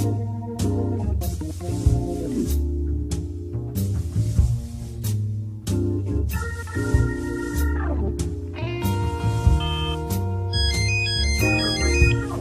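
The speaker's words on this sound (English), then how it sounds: "There's ringing coming from the sofa." A melodic electronic phone ringtone in a video game plays on and on in a looping pattern, bright synthesized tones stepping through a tune with no talking.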